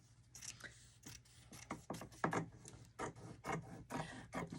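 Scissors trim fabric close up, a quiet series of quick snipping and rasping cuts in an irregular rhythm with no talking.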